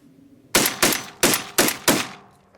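A Tristar Raptor 12-gauge semi-automatic turkey shotgun firing high and low brass shells, five loud blasts in quick uneven succession, each with a short decaying tail, close to the listener and free of talk.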